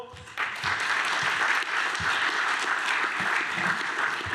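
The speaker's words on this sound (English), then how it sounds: "Round of applause." Audience at a talk on solar energy for flats breaking into applause, steady, fairly close clapping that starts abruptly after a brief quiet lead-in and holds evenly.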